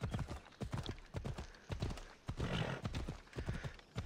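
Horse hooves clip-clop in a steady trotting rhythm in Assassin's Creed Odyssey, with a whinny rising partway through, all fairly quiet and close, under some game ambience.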